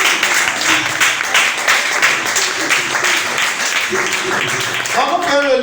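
Church congregation applauding and cheering during a sermon, a dense sustained wash of clapping with voices calling out, a few clearer voices near the end.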